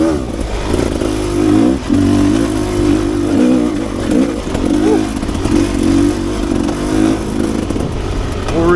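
A Rieju Ranger 300 dirt bike fitted with an FMF Gnarly exhaust is revved and ridden, its loud, close two-stroke engine note swelling and dropping in repeated bursts with rattling clatter underneath.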